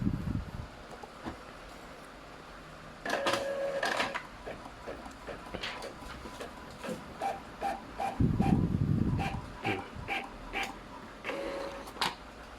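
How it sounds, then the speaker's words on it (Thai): An Epson L3150 inkjet printer with a clogged print head prints a page: short mechanical whirs and rattles, a string of light ticks and clicks, and a louder motor burst midway, close and with no speech. "จะลองปิ้นดูนะครับ"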